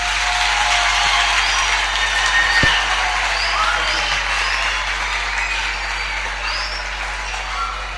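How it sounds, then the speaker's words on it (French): Clapping from an audience at a children's conference session, a soft, diffuse wash of applause that holds steady and slowly fades, with a low hum underneath. "That's good. Clap. Applaudissez."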